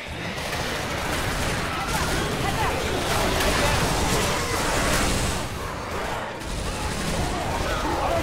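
Sustained barrage of gunfire in Left 4 Dead 2, a loud, dense rattle of rapid shots running almost unbroken, with a brief dip near the end, mixed with game noise and players talking over it.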